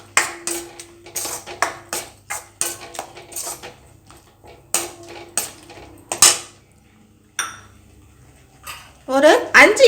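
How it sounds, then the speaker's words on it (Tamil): Sweet black kavuni rice pongal with grated coconut being stirred in a pot: a spoon clinks and scrapes against the metal in irregular close strikes, with gaps of quiet and a brief rattle at the end. "சேர்த்துட்டு நல்லா இதை கிண்டி விட்டுக்கலாம்."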